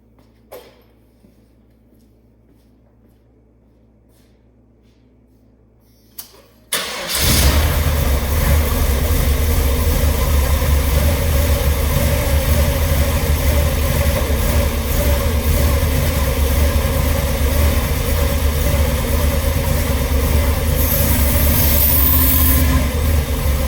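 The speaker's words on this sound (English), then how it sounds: "I'm gonna fire up the dually." A dually pickup truck sits silent for several seconds, then its engine cranks and catches abruptly, settling into a loud, steady running roar that carries on without any talking.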